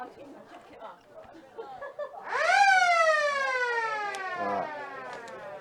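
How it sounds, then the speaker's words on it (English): A loud, sustained siren sounds at the start of a quarter in a women's Australian football match in Adelaide. The tone rises quickly and then holds as a long blare, with crowd chatter under it and a faint commentator's voice before it. "See if we get a bit of a quicker start on the siren this quarter as well."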